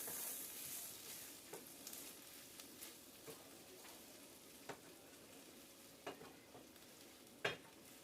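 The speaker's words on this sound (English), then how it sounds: "Give this another stir." Homemade beans with smoked bacon being stirred in a pot, with a few soft, sparse scrapes and knocks over a quiet, faint background, one sharper clatter near the end.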